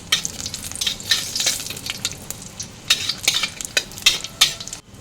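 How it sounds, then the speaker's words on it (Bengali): Whole dried red chillies, cardamom and cinnamon sizzle and crackle in hot ghee in a wok for korma spice paste, with steady frying hiss, sharp spattering pops and occasional light scrapes of a utensil. "কোরমার মশলাটা রেডি করার জন্য প্রথমে কড়াইয়ে আমি ঘি দিয়ে দিলাম, শুকনো লঙ্কা, এলাচ, দারচিনি"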